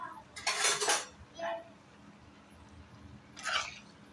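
A spoon scrapes and clinks against a pot while long bean curry is turned, three separate bursts of metallic stirring with quiet gaps between, close and fairly soft.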